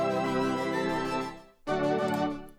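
An 80s-style synth preset without chorus effect plays a sustained chord, a thin, dry tone that cuts off briefly and then returns as a second held chord, no voice.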